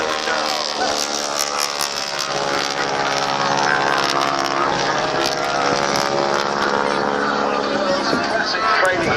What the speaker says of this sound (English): Classic training aircraft.